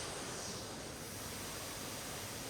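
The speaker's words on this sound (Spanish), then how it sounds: "Nos encontramos en la cascada escondida" A hidden waterfall rushes in a glacial landscape, a dense, steady roar of falling water that fills the scene without pause.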